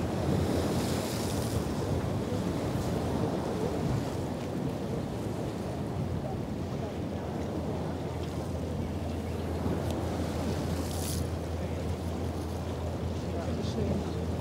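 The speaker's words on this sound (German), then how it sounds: "Ja, der Wind frischt jetzt doch auf." Wind freshening at sea around the cruise ship Mein Schiff 7, a continuous gusty rush with surf washing beneath it, steady and fairly close.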